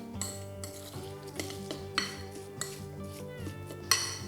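Pastry ingredients and hazelnut meal mixed in a bowl with a utensil, giving clinks and scrapes against the bowl at an uneven rhythm, close by with no voices.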